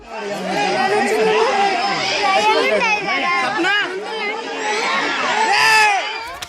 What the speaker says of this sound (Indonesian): gak sedikit para pengunjung berteriak ketakutan